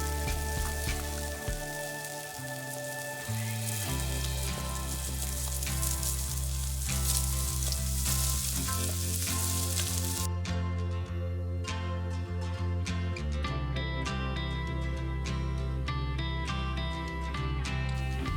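Small shallots frying in hot oil in a pan for a traditional mutton curry, a steady crackling sizzle throughout at moderate, even loudness.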